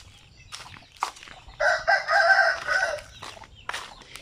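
Native chickens crow loudly, with one long cock-a-doodle-doo in the middle set among scattered softer clucks and bird sounds nearby.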